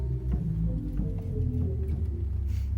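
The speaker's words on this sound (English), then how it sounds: "And then we have the Swell 16 and 8-foot flutes." Pipe organ Swell division 16 and 8-foot flute stops play soft, sustained low notes that shift gently, forming a warm, continuous hum with no voices.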